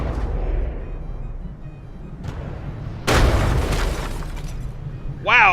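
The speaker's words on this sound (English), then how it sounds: "Wow, that was a secondary shell" A secondary shell explosion in the naval combat game From The Depths, in a frigate tournament battle: a loud, sudden broadband boom about halfway through, rumbling on over steady low battle noise.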